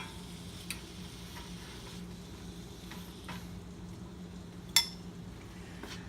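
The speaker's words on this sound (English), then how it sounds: "basically frying the steak in bacon fat" A soft, steady sizzle of steak frying in bacon fat, with a faint low hum and a few small clicks and taps from the pan.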